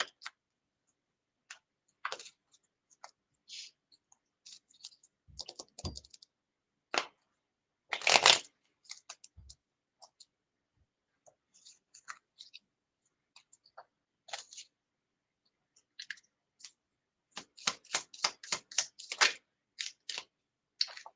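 Tarot cards being shuffled and riffled in irregular bursts with quiet gaps, close by, ending in a quick flurry of snaps.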